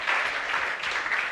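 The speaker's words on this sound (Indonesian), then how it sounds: "tepuk tangan" Applause from a studio audience at a Javanese traditional dance challenge on a talent show, steady dense clapping that fills the whole short moment without pause.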